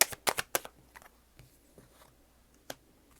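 Tarot cards being drawn and handled, a quick burst of crisp slaps and flicks at the start, then a few softer, sparse card taps, close and fairly quiet.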